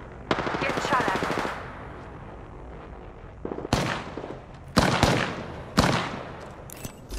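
Gunfire in the Apex Legends video game. A rapid automatic burst opens the clip, followed by several loud, sharp single shots spaced about a second apart, with faint game voices underneath.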